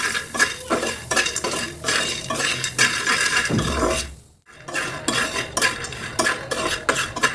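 Corn being dry-roasted with salt in a pan, stirred with a utensil that scrapes and clinks steadily against the metal, with a brief pause partway through and no voices.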